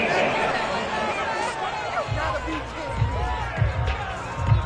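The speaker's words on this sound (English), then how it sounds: "This home crowd, they're happy with that call." A home football crowd reacts to a penalty call, with a loud, continuous roar of cheering and chatter and rising swells of noise, while a commentator talks over it.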